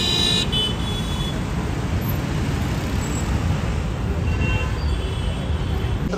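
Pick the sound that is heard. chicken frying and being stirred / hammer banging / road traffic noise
road traffic noise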